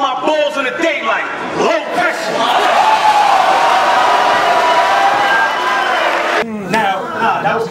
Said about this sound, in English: Don't cheer for that.